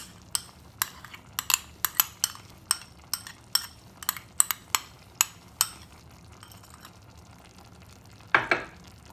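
A spoon scrapes and clinks through thick tomato paste in a pot, a run of sharp, close taps and scrapes at a steady rhythm, ending with one louder knock.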